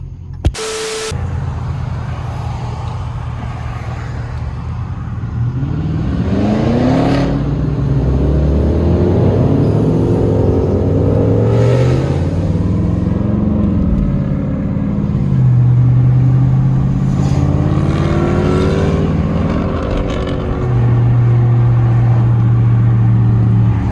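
A car drives in highway traffic, its engine loud and close with repeated rises and falls in pitch as it accelerates and shifts, over steady road and wind noise.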